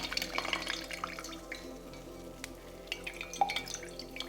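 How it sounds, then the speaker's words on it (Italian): Cooled chamomile tea trickles from squeezed tea bags into a bowl for a homemade hair mask, making faint, close drips and light splashes over a quiet background, with no talk. "strizziamo bene le bustine e aggiungiamo il liquido in ciotola"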